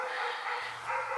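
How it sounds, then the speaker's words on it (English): Dogs bark in the background of an Ohio garden on a mild spring day, a continuous, fairly loud yapping and whining that fills the whole moment. "Sorry for the dogs in the background, but I'm surrounded by dogs and all they do is bark"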